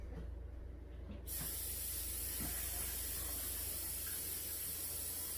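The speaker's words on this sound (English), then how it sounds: "You put that in your spray bottle, and then you fill it with water" Water rushes steadily from a tap into a spray bottle, a loud continuous hiss that starts abruptly after a quieter second and holds to the end.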